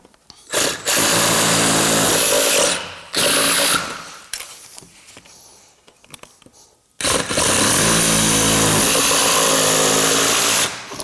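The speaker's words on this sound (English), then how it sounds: "carefully cut along the lines you've marked." A power saw cuts through plastic side-step trim on a Discovery 3 or 4 in loud sustained bursts with a short pause, then a quieter gap before a final long, close, whining cut.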